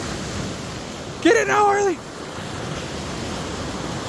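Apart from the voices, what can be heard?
ocean waves breaking on beach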